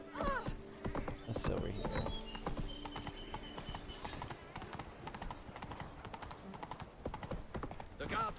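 Roach, a horse in The Witcher 3, clip-clops along in a steady, close run of hooves that carries through the whole stretch, with a short spoken line at the start.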